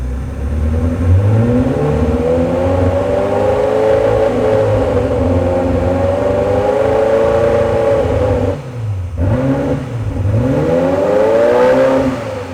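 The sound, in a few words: Ferrari F40 engine revving up from idle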